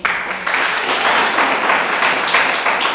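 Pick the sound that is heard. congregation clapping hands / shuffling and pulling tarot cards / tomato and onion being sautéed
congregation clapping hands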